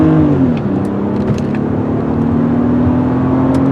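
A silver 2003 BMW 530i cruises at 60 mph, heard from inside as a loud, steady engine drone and road roar with a smooth, constant hum.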